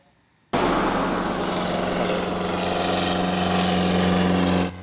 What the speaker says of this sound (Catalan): El PS i PSOE ha desplegat avui una avioneta que recorre el cel de Mallorca.